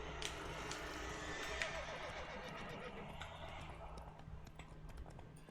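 Roach, the horse from The Witcher 3, neighs and snorts over clip-clopping hooves, a continuous close whinny sitting on a dense bed of game ambience.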